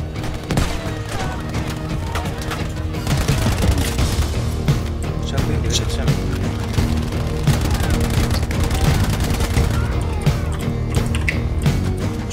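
Dense gunfire from Battlefield V on the Operation Battleaxe map: rapid, continuous bursts of shots and booms layered into a loud, sustained battle roar throughout.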